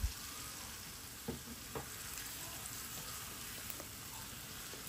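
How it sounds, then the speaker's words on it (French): A blended fish mixture is added to onions already fried in a pan, producing a steady close sizzle and hiss throughout, with a few soft knocks and bumps from the pan. "je vais ajouter dans l'oignon que j'ai fait frire"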